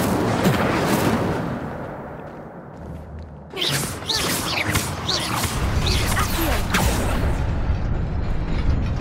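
Fire spell cast in the video game Hogwarts Legacy, a burst of crackling, roaring flame with sharp bursting bits that follows a quieter stretch and keeps rumbling loudly to the end.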